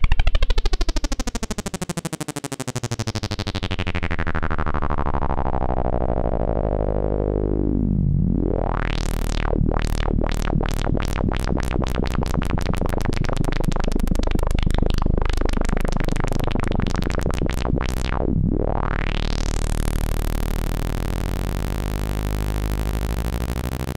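A filtered pulse-width-modulated synth patch built in Serum sweeps continuously, its resonant filter gliding down, then opening into dense bright phasing ripples and closing again, loud and alone.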